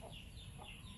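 A chicken clucks in short repeated calls at a coconut-wine tapping site, fairly faint over a steady low background hum.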